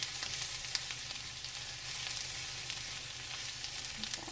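Garlic fries in a pan with a steady soft sizzle and scattered small pops and crackles, close and continuous, with no voices.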